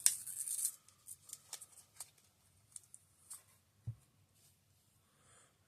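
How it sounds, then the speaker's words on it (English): A paper-wrapped roll of nickel coins being torn open by hand: a loud rip and crinkle at the start, then scattered close paper rustles and small crackles, with a soft thump near the end and no talking. "So let's go ahead and unwrap this and see what it is."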